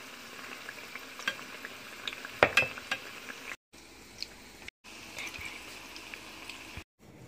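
Onion pakoras crackle and sizzle steadily in hot frying oil, with a few louder spattering bursts and brief gaps, heard close with no talking.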